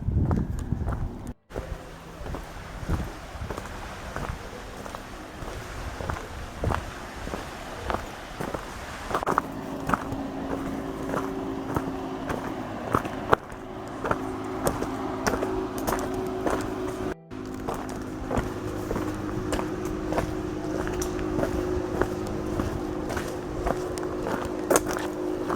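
Footsteps crunch steadily along a shaded hillside trail on a peninsula nature walk by Lake Rotoiti in Nelson Lakes National Park, with wind and outdoor ambience throughout.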